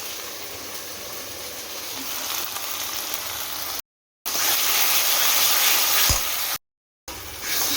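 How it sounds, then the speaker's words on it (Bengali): Green chili, ginger and garlic paste fries in hot oil with a loud, continuous sizzle and spatter, close by. The sound is interrupted by two brief cuts. "কাঁচা লঙ্কা, আদা রসুন একসাথে বাটা ছিল আমার ফ্রিজে, সেটা তেলের মধ্যে দিয়ে ভাজছি"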